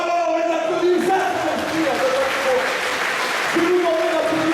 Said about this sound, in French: Voilà, on les applaudit